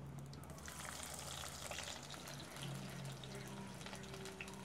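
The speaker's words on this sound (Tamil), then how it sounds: "இப்போ இந்த எண்ணெய் சூடாகிட்டு இதில் கடுகு, வெந்தயம், சீரகம் இது 3ஐயும் போட்டுருவோம்" Mustard seeds, fenugreek and cumin sizzle steadily in hot oil for a Jaffna-style cuttlefish curry, a continuous close hiss and crackle with no talk over it.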